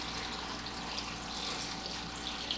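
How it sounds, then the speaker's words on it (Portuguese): Water runs steadily into a large cooking pot holding jabuticaba fruit for jam, a continuous soft splashing hiss from close by with no voices. "E vou colocar 1 litro de água"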